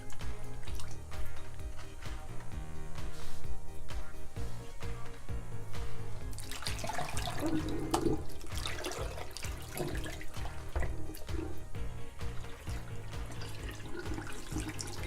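Cold tap water runs steadily over pantyhose bags filled with filter media, a continuous hiss and splash that gets busier partway through as the fabric is rinsed under the stream.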